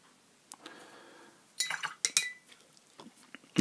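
A paintbrush rinsed in a water pot while painting: a handful of light, scattered clinks and taps against a glassy container, with soft swishing between them, close and quiet, no talking.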